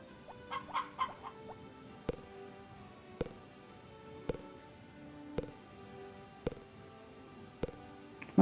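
Chickens cluck in a coop in the Harvest Moon video game, a few quick bird calls at the start followed by sharp, evenly spaced clucks roughly once a second, with no talking.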